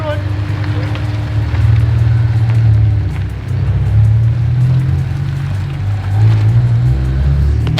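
A car pulls away with a steady, loud low engine rumble that swells and eases a few times as it drives off, staying fairly close throughout.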